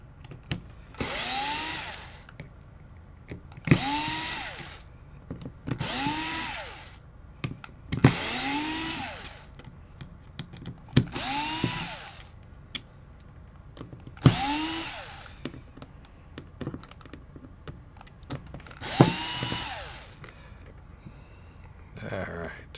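Power screwdriver backing body screws out of a Tippmann Gryphon paintball gun, with eight short whirring bursts spaced a few seconds apart, close and fairly loud, with brief handling clicks between them.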